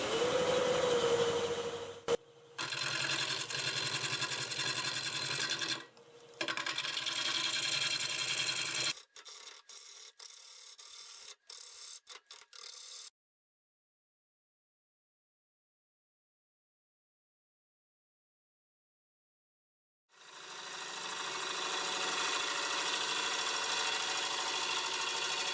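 A wood lathe turns a walnut blank while a freshly sharpened 5/8 bowl gouge cuts it, giving steady loud rasping in bursts with brief gaps, then long silence before the cutting resumes.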